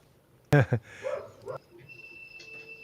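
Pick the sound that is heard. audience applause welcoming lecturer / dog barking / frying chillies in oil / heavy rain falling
dog barking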